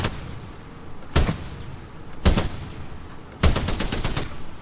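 Full-auto weapon fire in the Titanfall 2 tutorial comes in three sharp bursts of rapid shots, each louder than the one before, the last burst being the longest, over low background game noise.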